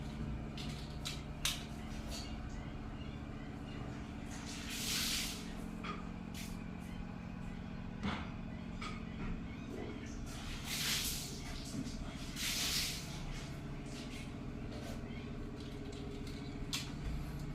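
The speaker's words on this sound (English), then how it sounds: "I will clean my hand before I eat." Hands being washed before a meal: short hissing, spray-like bursts of running water come and go over a steady low background hum.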